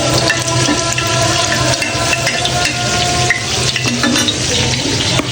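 Dried red chilies sizzle in hot oil in a pan as radish greens are cooked. The frying crackles steadily and closely for several seconds, with faint stirring scrapes and no talking.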